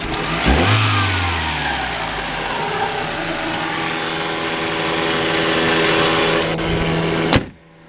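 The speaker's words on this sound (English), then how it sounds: "Go ahead and give it a few revs." A 1992 Toyota Celica GT's engine catches and revs up, pitch rising and falling through several throttle blips before settling into a steady idle and cutting off abruptly.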